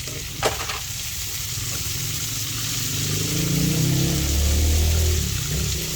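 Tomatoes hit a hot frying pan for a Filipino sarsiadong bangus dish, giving a steady close sizzle that swells louder toward the end, with no talking over it.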